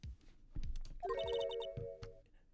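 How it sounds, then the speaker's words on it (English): A phone alarm plays a short, bright melodic ringtone at low volume, with a few soft tapping clicks before and after it. "Sorry, that was my alarm. Going off."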